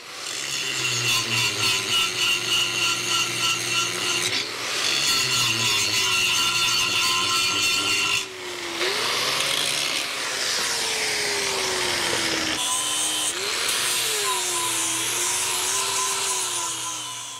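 Coarse grinding disc on an angle grinder cutting down an old weld on a steel trailer frame during a trailer jack replacement, a loud continuous whine with a shifting pitch as the disc bites and eases, briefly dropping and resuming, with no talk.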